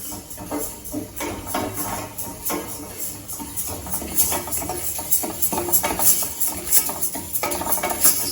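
Moong dal lentils dry-roasting in a pan, stirred steadily with a metal spoon that scrapes and clinks continuously, with a faint hiss underneath and no talking.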